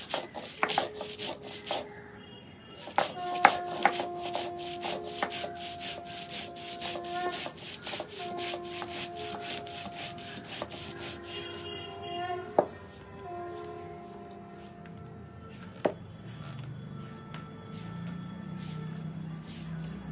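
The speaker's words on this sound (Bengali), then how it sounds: "এর জন্য সর্ষে কাঁচা লঙ্কা বেটে নিচ্ছি" Mustard seeds and green chillies ground on a grinding stone, a repeated rough rubbing and scraping in quick strokes with occasional sharp knocks, close and fairly loud, easing into a duller scrape near the end.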